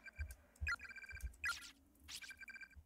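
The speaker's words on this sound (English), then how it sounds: "My head hurts so bad I can't stop this ringing in my ears" A ringing-in-the-ears effect from the horror video game Corpse Party, heard as repeated pulsing electronic ringing tones over dull low thuds, with no voices.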